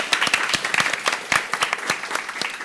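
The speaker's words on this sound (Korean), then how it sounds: "두 분의 대표님께 다시 한번 뜨거운 박수 부탁드리겠습니다" A small audience at a Korean startup networking event claps for two company representatives: brief, fairly close applause with distinct individual claps in an uneven rhythm, lasting under three seconds.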